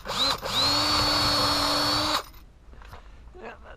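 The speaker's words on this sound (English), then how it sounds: "now I'm going to drill somewhere close to that where my other ones are" A handheld power drill runs at high speed into a surface while mounting a light fixture in a basement. It gives one loud, steady whine of about two seconds that stops abruptly, followed by quiet handling noises.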